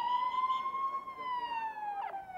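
A police car siren wails steadily in a park after a bomb explosion, its long tone slowly rising and falling at moderate distance over low background rumble.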